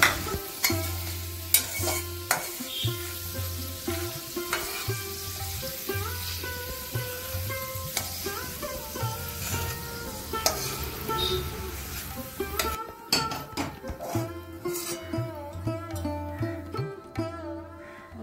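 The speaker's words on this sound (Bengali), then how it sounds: "ডাল ভাজা ভাজা হয়ে গেছে" Lentils frying in a pan while being stirred, a soft ongoing sizzle punctuated by frequent scraping and clinking of a spoon against the pan, close and moderately quiet.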